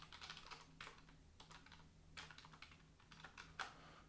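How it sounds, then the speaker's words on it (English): Quiet, rapid keyboard typing in irregular bursts of clicks, with brief pauses between runs of keystrokes over a low steady hum. "Sorry, I'm typing blind here."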